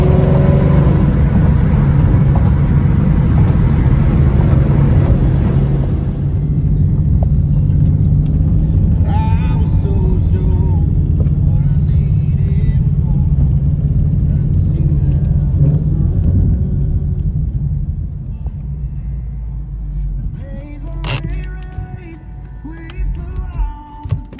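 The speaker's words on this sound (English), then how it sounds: "The Mustang's already a little warmed up, so I'm gonna give you a little start for you guys" Ford Mustang engine, already warmed up, roaring loudly at close range, with a steady rumbling rev that drops back to a lower idle partway through and continues with small clunks near the end.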